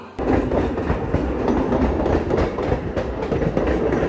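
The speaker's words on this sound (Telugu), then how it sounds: "ఐదో నెంబర్ ప్లాట్ఫామ్లోకి ముజఫర్పూర్ నుండి బెంగళూరు వెళ్ళే ట్రైన్ వచ్చింది" The Muzaffarpur–Bengaluru train rolls in at platform five of Chirala station, a close, loud, steady rumble of railcars with rhythmic wheel clatter throughout.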